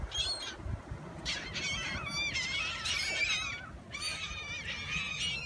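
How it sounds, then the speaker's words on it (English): Several seagulls squawk and cry in overlapping bursts while fighting over food, harsh and shrill, with steady background noise throughout. "And that sound is the seagulls. They're fighting over something."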